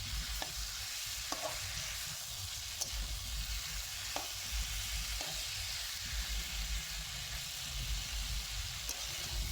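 Vegetable chorchori fries in a pan with a steady sizzle and hiss, broken by occasional soft clicks of a utensil stirring, close and continuous with no talking.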